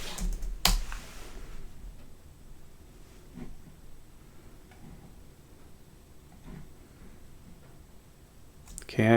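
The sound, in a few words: typing a password on a computer keyboard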